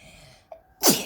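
A single sharp sneeze bursts out near the end, preceded by a faint intake of breath and a short catch of the voice.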